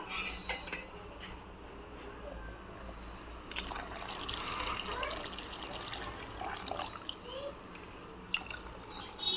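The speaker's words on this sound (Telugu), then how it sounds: "సేమియా వేసుకొని పాలు పోసుకుందాము" Milk is poured into a pot of vermicelli for payasam, giving a close, splashing trickle with scattered clinks of utensils and metal cookware throughout.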